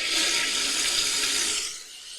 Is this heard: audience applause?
no